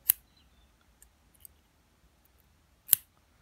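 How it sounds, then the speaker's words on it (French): Scissors snipping vape coil wire, two sharp metallic snips about three seconds apart, close and crisp, with faint small clicks between them in an otherwise quiet room. "là par contre je vais y aller au ciseau carrément. Je coupe comme ça."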